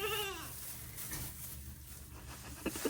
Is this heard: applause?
no